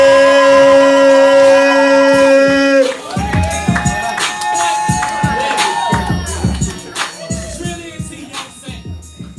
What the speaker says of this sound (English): Make some noise for Jade